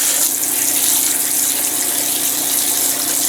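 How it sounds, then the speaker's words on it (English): Freshly harvested grapes get a final rinse under running tap water, a loud, steady gush of water pouring close by without a break, with no talk. "Now I am going to give these one last rinse."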